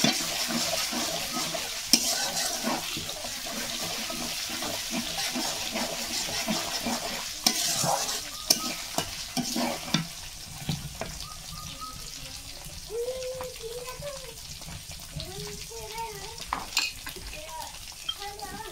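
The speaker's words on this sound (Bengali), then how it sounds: "এই তেলের সাথে আর পেঁয়াজ রসুনের সাথে মশলাটা ভালো করে কষিয়ে নেব।" Spice paste fries with oil, onion and garlic in a pan, a soft continuous sizzle broken by scraping stirs and clinks of a utensil, with wetter bubbling toward the end; fairly quiet and close.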